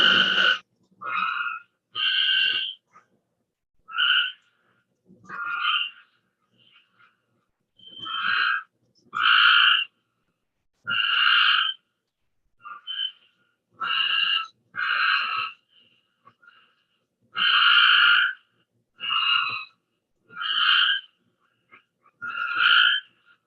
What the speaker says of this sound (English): So here's some of these late spring frogs.